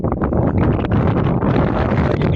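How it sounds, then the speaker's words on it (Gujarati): Strong wind buffets the microphone on the white salt desert, a loud, unbroken roar with gusty rustling and no speech. "પવન બહુ છે, તમને અવાજ નહીં આવે."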